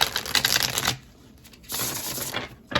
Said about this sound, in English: So let's go ahead and shuffle and begin.